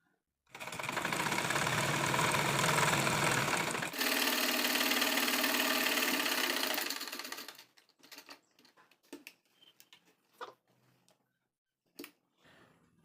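A sewing machine stitches the crotch seam of a cigarette pant in a fast, continuous whirring run for about seven seconds, briefly pausing and resuming, then stopping, followed by a few scattered soft clicks and fabric handling sounds.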